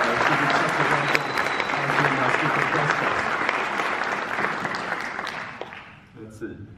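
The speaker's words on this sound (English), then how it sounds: "while you're clapping, why don't you do a clap for Johanna as well" An audience at a game development event claps loudly and steadily for several seconds before the applause tapers off and fades near the end.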